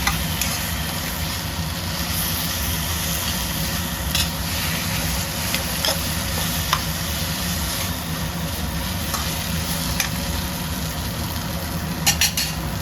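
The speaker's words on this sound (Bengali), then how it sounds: "চামচ দিয়ে কিন্তু শাকগুলোকে একটু মিশিয়ে দিতে হবে" Kochu shak (taro leaf) greens being stirred with a spoon in a pan for a hilsa fish head ghonto, giving a steady soft scraping and faint sizzle throughout, with a few sharper clicks of spoon on metal.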